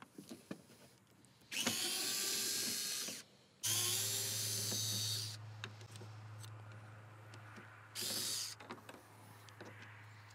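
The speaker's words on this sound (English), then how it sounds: "So I'll go grab a screwdriver and we'll get those out of there." Power screwdriver backing screws out of a Subaru Forester front grille, a few loud whirring bursts of a couple of seconds each with quiet handling noises between them.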